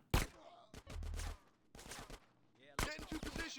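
Rapid video-game gunfire during a helicopter mission, sharp bursts of shots crackling in quick clusters with brief pauses between volleys, loud and close, with game voices shouting over parts of it.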